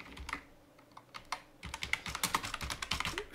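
Quick bursts of keystrokes clatter on a computer keyboard, irregular light taps that speed up into a denser run partway through, close and quiet with no voices.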